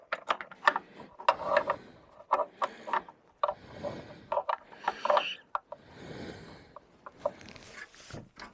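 Socket ratchet working on bolt heads through holes in the belly pan of a Polaris Indy snowmobile, sharp clicking pawl bursts in irregular clusters with pauses between, close and fairly quiet, no talk.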